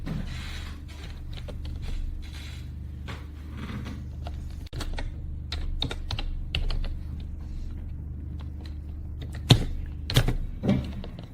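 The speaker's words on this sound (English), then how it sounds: "You can see how I type it in." Key taps on a computer keyboard while a name is entered into a field in 3ds Max scripting software, a steady run of soft clicks over low hum, with a few louder keystrokes near the end.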